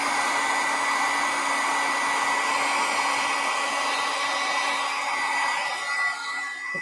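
A hair dryer blowing steadily and close up while drying a watercolor painting, a constant loud whooshing hum that dips slightly near the end.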